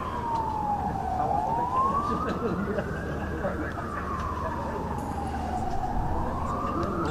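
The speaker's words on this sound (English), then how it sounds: "I can hear ambulance or fire brigade or something." An ambulance or fire engine siren wails in slow rising and falling sweeps, moderately distant, over a steady bed of traffic and background rumble.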